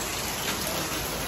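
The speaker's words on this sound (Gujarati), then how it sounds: "આ બહાર અમારો વરસાદ જુઓ કેવો પડી રહ્યો છે અત્યારે મહેસાણામાં ફૂલ વરસાદ" Heavy rain falling outdoors in Mehsana, a dense, steady, loud hiss with no gaps that is heard alone.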